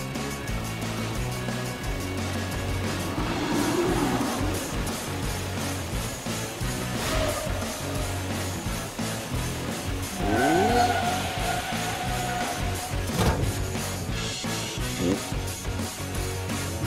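Cartoon super truck speeding up to overtake a car in a children's animated chase, engine and tire sounds running steadily throughout over a music bed, with a brief squeal-like sweep midway.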